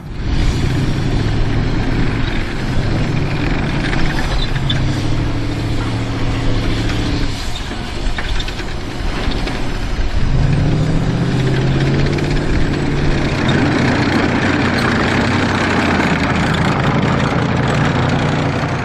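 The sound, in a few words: historic military fighting vehicle engine idling at a show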